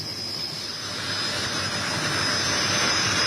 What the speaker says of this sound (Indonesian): Termasuk penampilan perdana jet tempur terbaru Dassault Rafale.